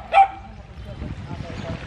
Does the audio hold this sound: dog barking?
yes